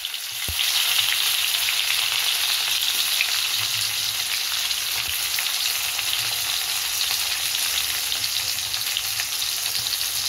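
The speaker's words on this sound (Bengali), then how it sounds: "দেখো ফোড়নটা পুড়ে এসছে, এবার পেঁয়াজ রসুনগুলো দিয়ে দেবো।" Onions and garlic frying in a pan after whole spices have been tempered in oil, a steady loud hissing sizzle that continues evenly with no talking.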